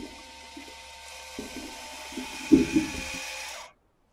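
An Envirolet remote composting toilet flushes with a little water, a steady hissing rush of water and a pump-like hum with a few soft thumps, lasting a few seconds then cutting off.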